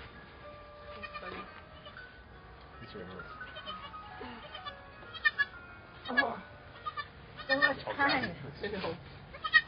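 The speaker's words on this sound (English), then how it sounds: "I love those goat noises." Goats bleat in a barn during a kidding, a string of loud, wavering calls that grows busier toward the end, with people talking quietly underneath.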